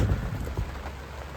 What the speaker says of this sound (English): Only fitting I'm doing this review in the rain.